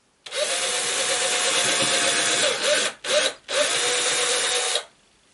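A power drill pre-drills pilot holes in wood for a 10-frame Dadant beehive cover, running in a loud steady whine with two brief stops near the end before spinning up again and cutting off.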